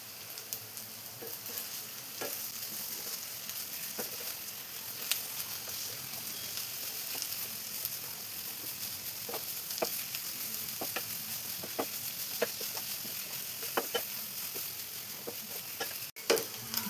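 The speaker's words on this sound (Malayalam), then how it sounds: "ഇനി ഇതെല്ലാം കൂടെ നന്നായി മിക്സ് ചെയ്തെടുക്കണം." A coconut mixture for a sweet dessert is stirred in a pan, with soft steady scraping and light sizzling throughout and occasional sharper clicks of the spoon against the pan.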